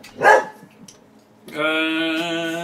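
A dog barks once up close, followed by a second dog's sustained, whining tonal yelp or howl lasting over a second, with a quiet gap between them.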